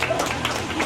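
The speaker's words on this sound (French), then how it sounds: "On peut l'applaudir Alexis qui revient du Super U." Scattered applause and crowd noise for Alexis at a 24-hour SODI SR4 karting event, a brief, moderately faint burst of clapping with voices mixed in.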